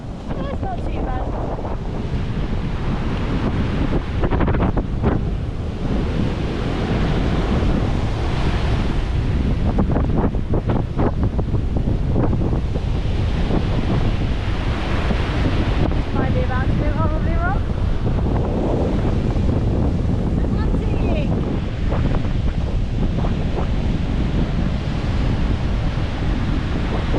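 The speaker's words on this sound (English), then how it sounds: "So time to go paddling in the ocean." Atlantic Ocean waves washing onto the shore, mixed with strong wind buffeting the microphone, a continuous loud roar of surf and gusts lasting the whole stretch with no talking.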